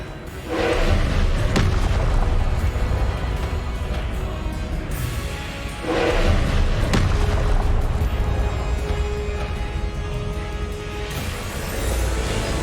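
Confringo blasting spells explode one after another in Hogwarts Legacy, two heavy booms about five seconds apart, each with a sharp crack and a long low rumbling tail, loud and close with no talk.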